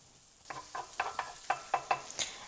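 Short crackling bursts repeat at a steady pace as butter melts and sizzles in a hot pan, close by with no talking.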